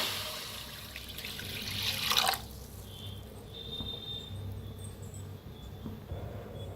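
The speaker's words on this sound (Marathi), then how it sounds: "त्याच्यात ओतूया पाणी। तर एक तांब्या भरून घेतलाय बघा।" Water poured from a small tambya pot into a kadhai set on a gas stove, a steady splashing rush for about two seconds that then stops, leaving quiet room tone.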